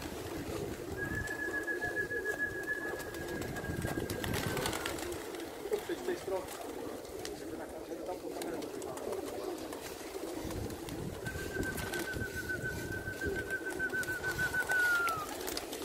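Pigeons in a loft cooing, with two drawn-out calls heard at moderate distance over a constant rumbling background.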